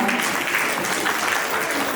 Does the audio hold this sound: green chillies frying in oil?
no